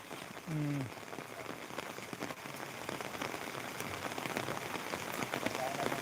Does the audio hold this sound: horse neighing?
no